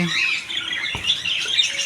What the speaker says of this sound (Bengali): এদিকে আছে লাভবাট পাখি